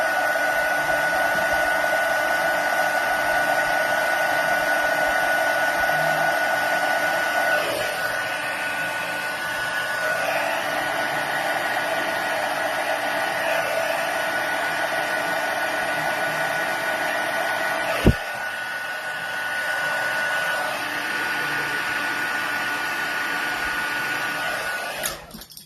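Heat tool warming a stamped card for a stamping craft: a loud, steady blower whir close by, running continuously with slight dips, one brief knock near the end before it cuts off.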